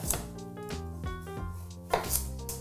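A knife slices celeriac diagonally on a cutting board, giving about six crisp, evenly spaced chops over a faint tonal hum.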